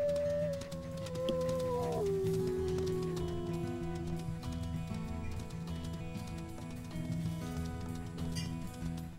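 A lost pup howls in a video game: a long, gliding, mournful dog howl that falls in pitch, then lower wavering howls over a steady musical background.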